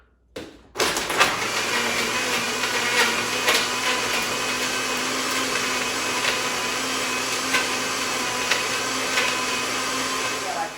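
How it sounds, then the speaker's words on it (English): A blender starts with a click and whirs loudly and steadily, a constant high-pitched motor drone churning a piña colada cocktail with pineapple juice the whole time. "Let's blend this thing."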